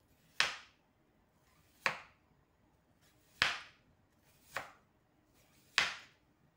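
A knife slices through red onion for a salad, five sharp separate chops spaced about a second apart, crisp and close with quiet between each.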